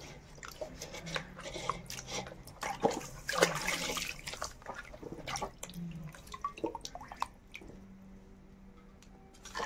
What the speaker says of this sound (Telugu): ఇవి ఇప్పుడైతే కాయలు కడుగుతున్నాను.